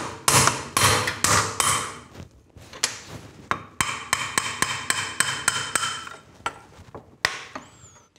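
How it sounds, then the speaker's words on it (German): Repeated sharp metallic hammer blows on a Simson moped engine crankshaft, struck through a piece of aluminium in quick bursts with short pauses, close and ringing against metal. "Jetzt nehmen wir wieder ein Stückchen Alu, den Hammer, schlagen auf die Kurbelwelle."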